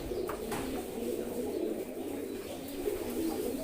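Pigeons cooing inside a loft, a continuous layered burble of soft, low coos from several birds close by, steady throughout with no voices.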